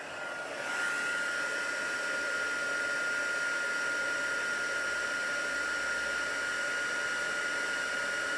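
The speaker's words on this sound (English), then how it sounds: "Just want to heat it right up so it doesn't take too long." A heat tool starts up and blows steadily over embossing powder on a stamped card, a loud continuous whooshing whine with a high tonal hum, running alone without pause.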